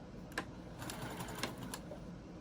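A sewing machine stitches a patchwork quilt in a few short bursts, with sharp clacks standing out over a faint background.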